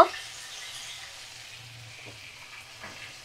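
Ginger garlic paste frying in a pan on a medium flame, a soft steady sizzle with faint stirring, fairly quiet and close, with no talk.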